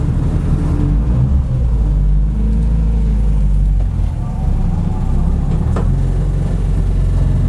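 A Spoon Sports Honda Civic SiR EG6 N1 race car drives slowly within a small space in Tokyo. Its engine keeps up a steady low rumble that stays loud and close the whole time, with a voice occasionally heard over it.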